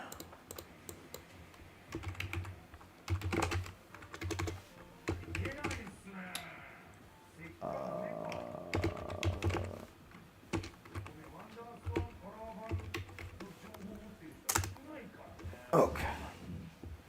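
Close clatter of typing on a computer keyboard in bursts of keystrokes, with a person talking over parts of it.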